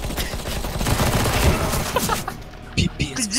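Rapid, dense bursts of gunfire in CS:GO fill the first couple of seconds, then give way to scattered sharper shots, with excited voices talking over the action.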